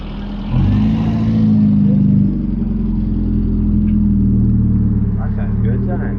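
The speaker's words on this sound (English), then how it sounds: "Let's just watch this one leave." A left-hand-drive car's engine rumbles nearby at a car show, swelling briefly as it revs and then holding a steady drone as the vehicle pulls away.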